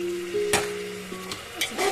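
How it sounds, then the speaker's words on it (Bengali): Mutton curry in a pan with a little water just added, stirred as it sizzles: a close hiss with spoon scrapes and knocks against the pan, under a steady tonal hum, no voices. "তারপর এটা একটু নাড়চাড়া দেবো"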